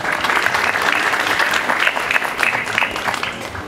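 A congregation at a prayer gathering claps steadily together, a dense, continuous wash of hand claps that stays loud and even from start to finish with no pauses.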